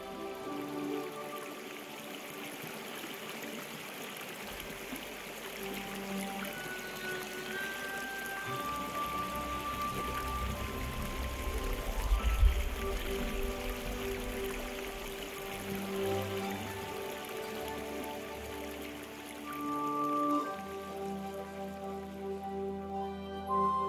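River Szum rushing over rocky rapids in a forest park: a steady, continuous broadband wash of flowing water, fairly close and unbroken, with faint tonal music running underneath.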